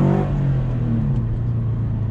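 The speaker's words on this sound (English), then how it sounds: "Who loves the sound of a BRZ?" Toyota BRZ with a naturally aspirated engine revving up and settling back, a close, loud, steady engine drone with no talk over it.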